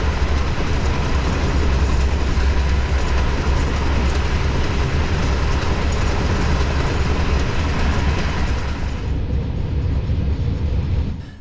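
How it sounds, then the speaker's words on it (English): The Watania Deluxe Sleeper Train running overnight from Cairo to Luxor gives a loud, steady interior rumble with faint clickety-clack of the wheels, continuous and without voices, easing slightly near the end. "this overnight trip from Cairo to Luxor on the Watania Deluxe Sleeper Train"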